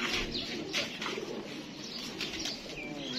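Pigeons flutter and coo close by, wings flapping in bursts over soft chirps, with steady hiss underneath.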